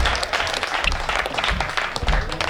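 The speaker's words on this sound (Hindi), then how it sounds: "पढ़वाना चाहते हो तो तालियां बजाओ ना" Scattered audience clapping at a Hindi comic poetry gathering, a hasya kavi sammelan, fairly close and moderately loud, with a low rumble and some murmuring underneath.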